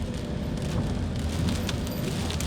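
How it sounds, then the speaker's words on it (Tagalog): Rain comes down in gusts over Manila, a dense, loud wash of patter and hiss on hard surfaces that continues without pause and with no voices. "ang ulan dito guys ay pabugso-bugso"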